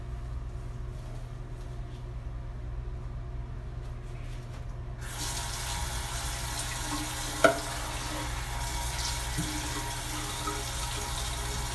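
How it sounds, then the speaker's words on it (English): Running water from a sink tap while lab materials are washed with soap, a steady close hiss that turns louder and brighter partway through as the flow increases, with a faint clink of items. "So using soap and water, we would wash the materials that we use."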